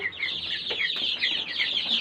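Native chickens, Desi hens with chicks, cluck and peep continuously in a darkened coop, a busy overlapping chorus of short calls.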